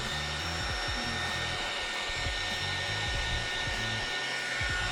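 A hair dryer heats polish on police cadet boots, giving a loud, steady, close whir that runs unbroken throughout with no talking.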